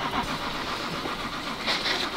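A car engine turning over and catching in a steady, broadband roar, close and fairly loud, with a brief surge near the end.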